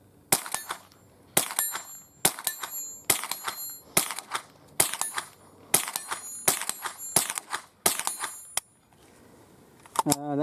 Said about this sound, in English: So let's get some shots, more shots down range.